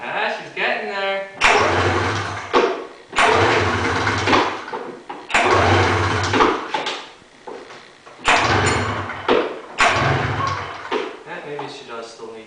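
An Arctic Cat Cougar snowmobile engine after an engine swap is cranked repeatedly, five loud rough bursts of a few seconds each, separated by short pauses, up close.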